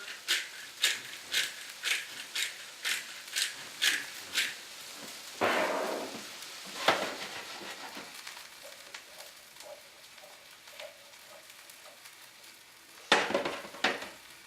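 Asparagus and tomatoes cooking in a hot pan, salted and peppered, heard as steady faint sizzling beneath a series of regular sharp clinks, a louder scraping toss, and a few more clatters near the end.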